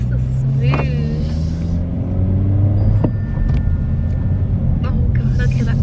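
A 2022 Honda Civic Si sedan with a manual clutch pulls off from a stop in first gear, its low engine rumble steady and close inside the cabin, with brief faint chimes and clicks and a person speaking over it.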